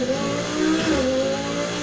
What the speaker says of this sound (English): the Audi is quite one of the nice sounding cars